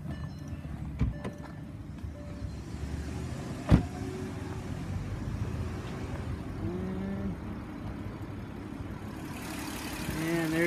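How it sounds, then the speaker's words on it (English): A 2009 VW Touareg engine idles with a steady low rumble, punctuated by a sharp click and a brief whir partway through. "I'm actually going to do that while the engine's on so you can really hear it too"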